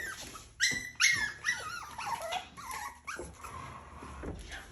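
Puppies whimper and whine by a dishwasher in a kitchen, giving a string of high, yelping cries and small growls that come close together at moderate loudness with no talk.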